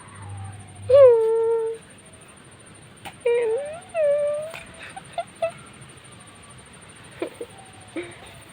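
A dog whines and whimpers nearby in a few drawn-out, wavering cries, followed by short faint yelps in a quiet room.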